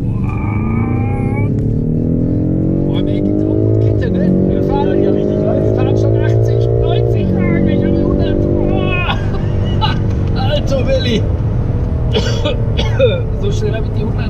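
A car with its exhaust in sport mode accelerates hard during a driving lesson, its engine note climbing loudly through several gear changes, with people talking inside the cabin.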